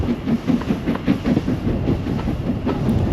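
A steam locomotive train rolls along a heritage railway in the Cotswolds, with a steady, close, rhythmic clickety-clack of wheels over rail joints and a continuous low rumble, no talk.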